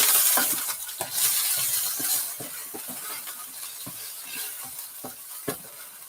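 Onion wedges frying and being stirred in a pan for a beef, black bean and cashew stir-fry, with steady close sizzling broken by repeated sharp scrapes and clinks of utensil on pan.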